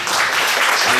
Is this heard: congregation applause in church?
yes